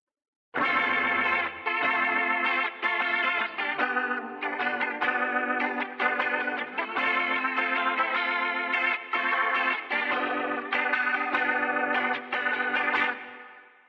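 An electric guitar through a Leslie rotating-speaker effect and reverb plays a strummed chordal rhythm part on a Line 6 Helix, swirling wobble washed in reverb, loud and steady with brief gaps.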